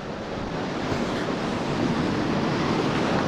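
Sea surf on the shore at Porto Santo, a steady loud wash of breaking waves and backwash at the tide line, with wind rushing across the microphone and no voices.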